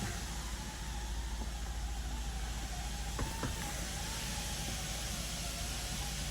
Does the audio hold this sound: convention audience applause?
no